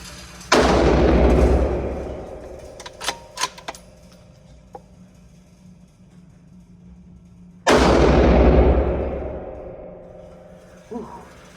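Two loud rifle shots fired at a target, each a sharp blast with a long decaying tail, several seconds apart, with faint clicks and handling noises between them.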